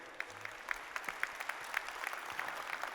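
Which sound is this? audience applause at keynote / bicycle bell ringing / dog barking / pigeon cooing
audience applause at keynote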